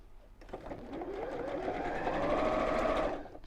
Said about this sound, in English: And then we'll sew these together.